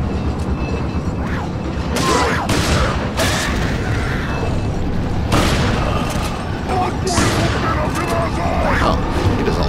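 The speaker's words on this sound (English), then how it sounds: "Really liking the shotgun's power." Shotgun blasts in the video game Resident Evil 4, several booming shots scattered through dense game sound effects and mechanical clatter, with a player talking over parts of it.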